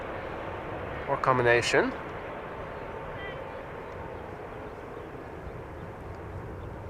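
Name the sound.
aircraft taking off at Amsterdam Schiphol Airport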